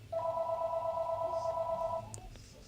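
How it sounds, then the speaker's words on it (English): A telephone rings in one long steady electronic trill lasting about two seconds, fairly clear over a low background hum, heard during a live multistream broadcast setup. "Phones is ringing."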